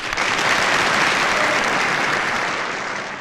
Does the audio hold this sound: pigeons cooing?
no